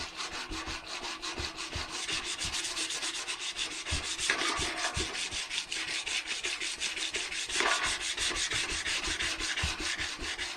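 Sanding through the lacquer on a motorcycle being prepared for paint: a steady, close, rhythmic abrasive rubbing with quick back-and-forth strokes and a couple of sharper scrapes, with no voices.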